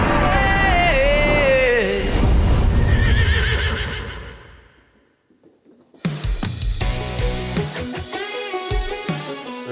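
A horse neighs loudly and close at a farm on farrier day, a shaky whinny with hoof clops and light background chatter, then a pause before clattering, busy yard sounds resume.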